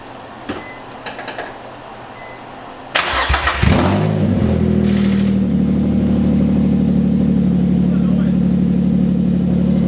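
A Nissan 350Z with a newly replaced flywheel and clutch cranks and fires after a few clicks, then settles into a loud, steady idle with a rising rev, close up in a garage.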